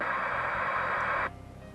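CB radio receiver with the squelch control turned fully down, giving a loud steady hiss of static that cuts off abruptly near the end, leaving only faint low hum.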